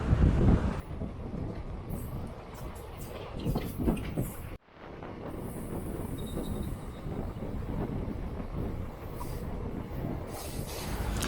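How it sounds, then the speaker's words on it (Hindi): The Narmada Express rolls past Khodri railway station with a continuous loud rumble and clatter of wheels on rails. A brief dip in the sound falls midway, and the roar then resumes strongly. "हम खोडरी रेलवे स्टेशन को पार कर रहे हैं नर्मदा एक्सप्रेस के साथ में"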